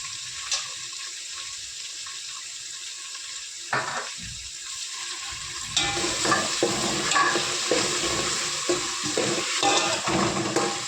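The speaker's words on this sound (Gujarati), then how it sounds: "આપણે જે આદુ મરચાં અને લસણની પેસ્ટ બનાવી હતી નાખી દઈશું" Ginger, green chili and garlic paste drops into a hot pan, breaking into a steady, close sizzle that grows louder and busier partway through, with occasional stirring scrapes and clicks.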